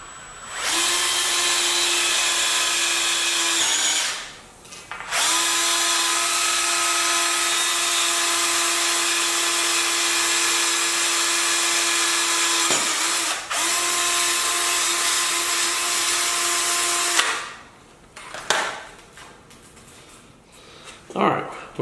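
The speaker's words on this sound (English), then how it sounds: "now we're going to drill this 1/4 inch hole" A power drill whines steadily in long bursts, boring a 1/4 inch hole, pausing briefly between runs, close and loud, with a few clunks at the end.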